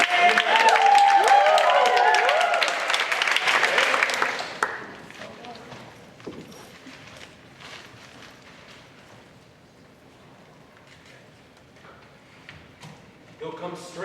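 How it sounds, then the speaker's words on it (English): Audience applause after a live Hamlet scene on stage: a dense burst of clapping for about four seconds, then a quieter room with scattered rustling and a brief renewed clap at the very end. "Let's give them a big round of applause."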